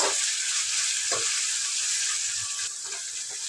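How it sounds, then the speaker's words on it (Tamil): Ginger garlic paste being sautéed in a pan for a home-style kurma, giving a steady, close sizzle that runs unbroken throughout, with a few faint stirring scrapes and no voices. "இஞ்சி பூண்டு பேஸ்ட்டு சேர்த்து அதையும் நல்லா வதக்கி விட்டாச்சு"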